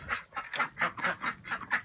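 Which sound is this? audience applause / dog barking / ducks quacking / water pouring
ducks quacking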